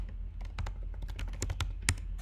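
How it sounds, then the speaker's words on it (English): Typing on a computer keyboard while entering login details into a web form: a dense run of close, crisp key clicks at an uneven pace over a low steady hum, with one sharper keystroke near the end. "now I'm gonna start typing in my email"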